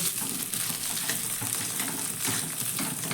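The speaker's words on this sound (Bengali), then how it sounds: "আলুটাকে একটু মশলার সঙ্গে কষিয়ে নেব" Potatoes sautéing with spices in a pan, a steady close sizzle and frying crackle with faint stirring scrapes running the whole time, no voices.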